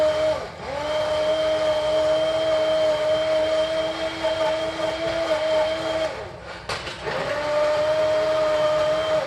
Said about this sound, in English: I'm using my stick blender.